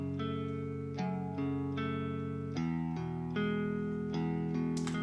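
A Contact Electric Sunburst electric guitar strums a sustained chord pattern with light EQ, each chord ringing out and changing roughly every second in a steady, clean, moderately quiet progression.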